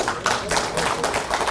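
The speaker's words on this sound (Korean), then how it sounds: "당연히 박수 나올 줄 알았지만은 아주 박수를 절절하게 잘 치네" Lecture audience applauding at a Korean national security talk, a steady wash of many hands clapping without pause, fairly close and filling the short stretch.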